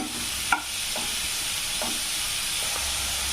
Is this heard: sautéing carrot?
yes